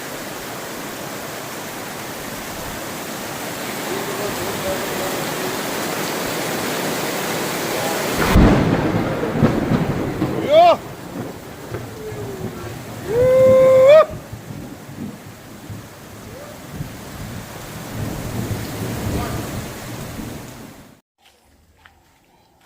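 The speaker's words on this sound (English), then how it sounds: "This is serious rain." Heavy rain roars as a dense constant hiss while camping, with a deep thunder rumble partway through and a voice speaking briefly before the sound cuts off.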